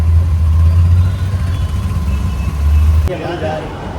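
Cars and other vehicles idle in a traffic jam, a steady low engine rumble that persists for about three seconds before dropping away as talk continues.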